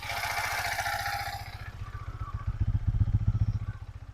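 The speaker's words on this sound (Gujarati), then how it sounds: "મિત્રો અત્યારે એકદમ એન્જિન સ્મૂથ છે" A Yamaha MT-15 motorcycle engine idles smoothly up close, a steady low rhythmic thrum that grows slightly louder and more pulsing toward the end.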